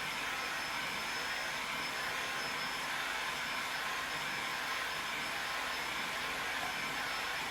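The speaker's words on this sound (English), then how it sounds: "I'm gonna come back with the heat gun." A heat gun blows hot air in a steady, unbroken whoosh, held close and running alone for the whole stretch with no pauses.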